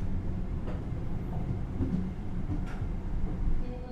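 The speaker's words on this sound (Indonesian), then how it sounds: "Kereta api Manahan telah tiba di stasiun Kroya." The Manahan passenger train rumbles into Kroya station with a low, steady rolling roar and faint rail clatter, heard from inside the train without voices.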